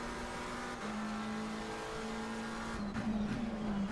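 Race car engines drone steadily in the Assetto Corsa Competizione sim racing game at Kyalami or Watkins Glen, a sustained mid-distance engine tone with faint tyre noise rising near the end.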